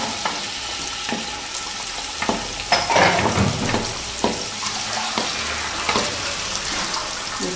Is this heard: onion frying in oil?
yes